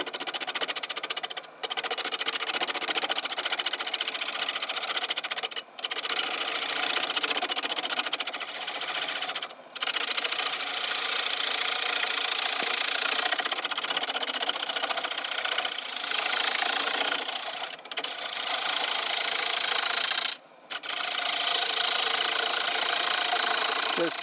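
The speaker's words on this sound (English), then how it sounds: "I'm going to use the gouge again." A wood lathe spins a bowl blank as a gouge cuts it, a steady loud whirring and hissing cut that runs continuously, broken by a few brief pauses where the tool lifts away.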